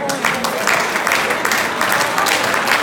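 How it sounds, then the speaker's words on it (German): Dense, steady applause fills a hall at a sports club's ball, a crowd clapping together at close range for the full stretch without letup. "Anna, der Applaus ist für dich."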